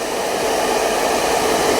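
A hair dryer blows a steady, close, even whoosh across a Corgi's coat, with no voices.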